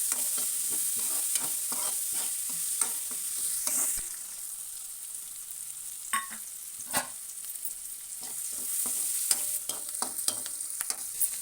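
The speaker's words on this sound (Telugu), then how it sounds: "ఈ ఉల్లిగడ్డ, పచ్చిమిర్చి వేసుకొని దుమ్ము రేగొడుతు మంచిగా చిక్కగా కలుపుకోవాలండి" Onions and green chillies frying in a pan for a brinjal curry, a steady soft sizzle with repeated scraping stir strokes in an irregular rhythm, close and alone without talk.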